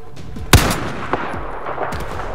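Rapid weapon fire in the shooter Battlefield 4 during a campaign mission, with one loud sharp shot followed by quicker, fainter reports over steady battlefield rumble.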